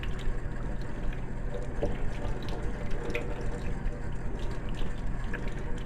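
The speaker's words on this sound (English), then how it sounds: "Let me rinse the sugar off really quick." Running tap water splashing over hands as sugar scrub is rinsed off at a sink, a steady moderate hiss and patter throughout.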